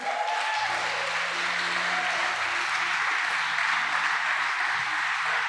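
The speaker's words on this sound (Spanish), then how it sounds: "Le da palmas fuertes al Señor." A church congregation claps loudly during a sermon, a continuous, even roar of many hands clapping together, with faint tones underneath.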